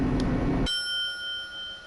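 A bright two-tone door chime from the video game Danganronpa rings out after a brief low rumble, then its clear tones hang and fade over a quiet background.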